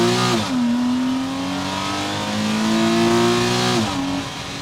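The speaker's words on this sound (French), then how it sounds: "On y va pour un petit test de la sonorité avec le launch control depuis l'intérieur." A tuned Porsche Cayman heard from inside the cabin on a full-throttle launch-control start: the engine holds at high revs, then climbs steadily through a long pull before a quick upshift, loud and alone.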